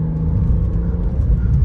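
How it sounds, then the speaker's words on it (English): A stock BMW F10 535i idles and cruises with its quiet factory exhaust, a steady low engine rumble and whir heard from inside the car, continuous and subdued with no talking. "This car is definitely quiet"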